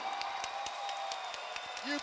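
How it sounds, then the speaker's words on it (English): Faint, distant applause from a crowd at a mixed martial arts event (EFC5) honouring both fighters: sparse, light claps patter steadily over a quiet hall hum. "Let's give one more round of applause for both these guys in that fantastic fight."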